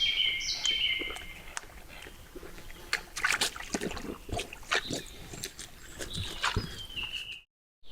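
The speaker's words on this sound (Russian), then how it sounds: "пение птиц не утихало даже в столь поздний час" Birds sing in an evening forest, with bright chirps and trills scattered throughout and short whistled calls near the beginning and end, all at a moderate, fairly close distance before a brief drop to silence.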